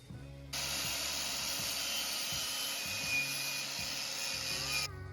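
A drill spins a wire wheel brush, stripping exhaust headers, with a steady high-pitched whir and gritty scraping for several seconds, then stops, leaving a quiet low hum.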